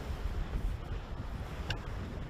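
Gusting wind buffets the microphone on a lake during a bass fishing tournament, a steady low rumble with faint wave wash beneath and no voices.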